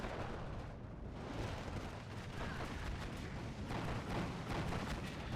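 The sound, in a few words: IL-2 aircraft bombing run in video game Steel Division 2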